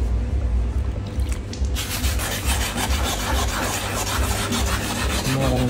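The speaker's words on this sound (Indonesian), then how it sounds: "Garuri masih diamplas." Abrasive sanding of a car body part being prepared for repainting, where uneven textured areas are being smoothed; a steady, loud scraping rasp continues throughout with no pauses and no talk.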